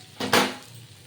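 A vegetarian cabbage ghonto cooking in a pan, heard as a single short metallic clatter of a utensil against the pan, close and sharp, then quiet.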